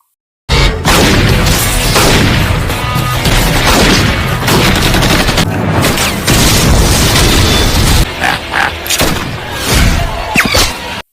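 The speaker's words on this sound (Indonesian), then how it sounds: "teman Martin tewas ditembaki para geng tersebut" Gunfire in a film shootout, a loud sustained barrage of booming shots and bursts with crashes, dense and close, starting abruptly and easing into separate blasts toward the end.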